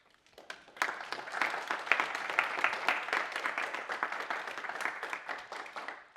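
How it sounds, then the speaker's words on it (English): A small audience claps after a training session on valve testing, starting with a few scattered claps that quickly swell into steady, moderately faint applause lasting several seconds. "So a big round of applause for her"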